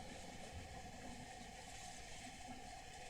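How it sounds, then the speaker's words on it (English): KiwiRail train 482 slowing as it enters a crossing loop at Te Puna: a faint, steady broadband rumble and hiss at a distance, unchanging throughout with no distinct clanks or horn. "Going back to train 482 here, I noticed she was slowing down while going into the crossing loop."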